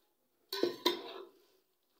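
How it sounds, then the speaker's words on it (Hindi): Metal spoon scraping and knocking in a pot while biryani rice is stirred and mixed, two close clanks followed by a brief rustle of rice, then quiet. "अब मैं तकरीबन सारी बिरयानी को एक थोड़ा सा मिक्स कर दूंगी ताकि ये नीचे से भी अच्छे से चावल जो ऊपर है वो नीचे चले जाएं"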